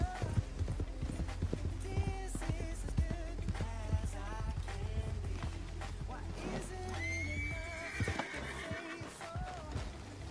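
A horse in the Red Dead Redemption 2 video game gives a loud whinny amid steady hoof clip-clops and rustling movement, close and continuous, with brief voices in the game.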